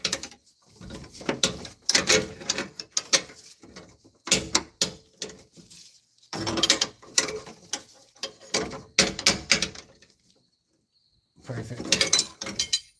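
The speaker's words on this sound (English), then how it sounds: "Then we just have to tighten the hold down bolt, bracket bolt," Mechanical ratcheting clicks from tightening the hold-down bracket bolt of an ignition control module on a 1996-2005 Chevrolet Astro, coming in several close bursts separated by short pauses.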